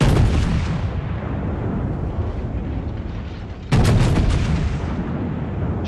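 Heavy battleship guns fire in the naval game World of Warships, with a big booming salvo at the start and a second loud blast partway through, each decaying into a long rumbling tail.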